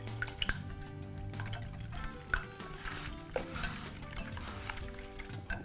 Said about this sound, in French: je mélange les ingrédients humides ensemble